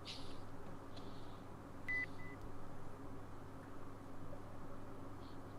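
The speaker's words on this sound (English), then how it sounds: "So all I'm hearing is a beep." Two short electronic beeps sound close together against a steady low hum, the second slightly longer, with faint hiss and clicks around them.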